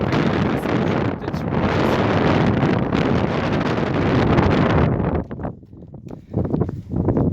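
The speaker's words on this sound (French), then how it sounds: "il y a un vent qui est froid" Cold wind buffets the microphone on an exposed Alpine mountainside, a loud, sustained broadband roar that slackens in the last couple of seconds into gustier, intermittent blasts.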